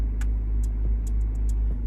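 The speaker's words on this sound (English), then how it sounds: "now we'll check to see if the engine runs fine" Car engine idling after an exhaust manifold repair: a strong steady low rumble with faint light ticking, plus several sharp high clicks at irregular intervals over the hum.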